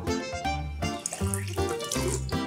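Tap water runs into a smart toothbrush's built-in water reservoir, a steady close filling sound with a ringing, shifting tone as the container fills.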